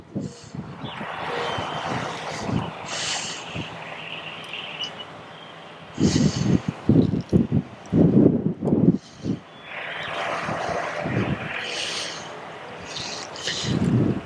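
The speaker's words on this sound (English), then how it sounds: "Almost too windy." Wind blows outdoors in a garden with raised beds, gusting roughly and buffeting the microphone in loud bursts, strongest around the middle and again near the end.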